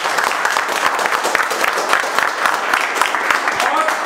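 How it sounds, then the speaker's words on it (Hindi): An audience at a mobile repair training event gives loud, sustained applause, dense clapping from many hands, steady throughout, with some voices mixed in. "एक बार उनके लिए जोरदार ताली बजाओ"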